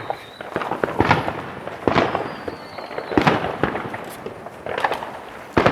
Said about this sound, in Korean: 본격적인 불꽃놀이를 즐기려 하는 것 같습니다